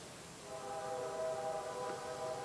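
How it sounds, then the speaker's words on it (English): A morning train passes near the tracks by an ATV wild campsite, heard as a faint, distant, steady droning tone with a low rumble, and no voices. "There's the morning train"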